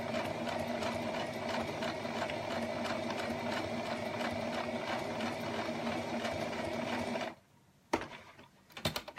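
A sewing machine stitches fabric with a steady, fast mechanical whir and rhythmic needle clatter for several seconds, then stops abruptly, leaving a few quiet clicks and handling sounds.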